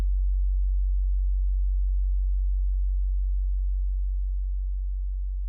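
A steady low sine tone near 50 Hz hums from the PSP InfiniStrip plugin, constant and unbroken, easing slightly quieter toward the end.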